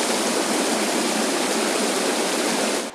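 Rainwater rushes through a ravine after two days of continuous rain, a loud, steady, close-up wash of flowing water that runs unbroken for the whole stretch with no voices.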